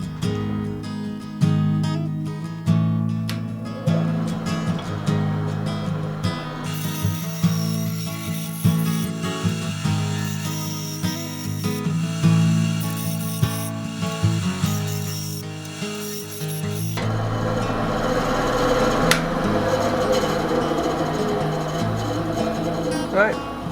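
Lines being hand-cut into a wooden jerk bait fishing lure, heard as close, continuous rasping and scraping strokes with a steady, ratchet-like mechanical rhythm throughout.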